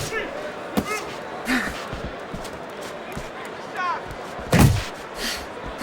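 Heavy punches land in a Fight Night Champion boxing simulation of Jose Ramirez vs Regis Prograis, a few dull thuds and slaps spaced irregularly, the loudest near the end, over constant crowd noise and commentary.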